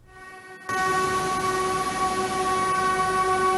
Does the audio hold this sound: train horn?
yes